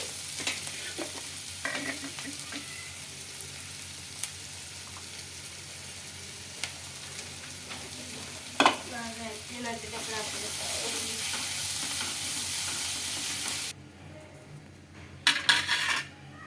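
Onions and a ground chutney paste frying in a pan with a spoon stirring and scraping, occasional metallic clinks, then a sharper crackle as more goes in near the end.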